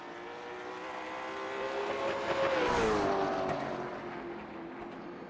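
A late model race car lapping Hickory Motor Speedway, its engine drone building as it closes in, peaking in a loud pass-by with a falling pitch, then fading away down the straight.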